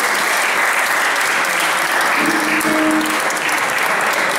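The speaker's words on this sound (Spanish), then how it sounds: "así que un aplauso para toda la gente que está aquí" A concert crowd claps continuously and loudly throughout, a dense wash of applause with no pauses.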